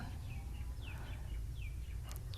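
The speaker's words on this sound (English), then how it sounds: "I don't know if you can hear the birds chirping" Faint bird chirps outdoors near a house in midday, a few short high calls scattered over steady low wind rumble.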